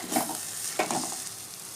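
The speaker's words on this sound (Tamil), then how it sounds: "இடையில கிண்டி விட்டுக்கோங்க இல்லைன்னா அடி பிடிக்க வாய்ப்பு இருக்குது" Spinach koottu (kuppai keerai) cooking in a pan is stirred with a couple of quick scrapes against the pan, over a soft, continuous low sizzle.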